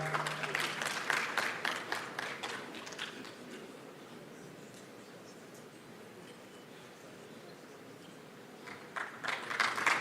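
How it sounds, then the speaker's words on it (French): Audience applause at a Senegalese diaspora national day gathering, fairly faint, fading out after the first few seconds, leaving a low hall murmur before clapping swells again near the end. "Applaudissez"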